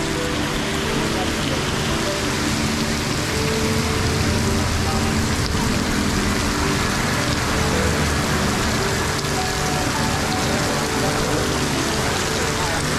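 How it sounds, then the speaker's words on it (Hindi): Heavy rain pours steadily and loudly on a roadside stop during a long cycle ride near Agra, a dense unbroken wash of falling water for the whole stretch with no pauses. "इस समय यहाँ बहुत तेज़ बारिश हो रही है"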